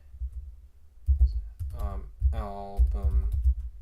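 Someone types a git commit message on a computer keyboard, soft key clatter running under a man's speech, close and steady.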